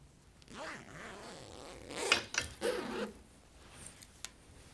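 Zipper slide pulled along a sewn-in invisible zipper on fabric during sewing, a few quick scraping zips and soft clicks close up, with faint handling noise around them.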